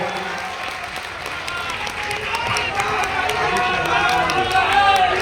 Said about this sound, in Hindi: मैं चाहता हूँ एक बार जोरदार ताली से आप लोग इनका भी।